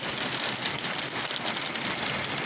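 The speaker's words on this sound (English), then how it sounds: "Do you hear that hail, man?" Hail pounds down during a severe thunderstorm, a dense, steady, loud roar of hard pellets striking surfaces close by, unbroken across the whole stretch with no voices.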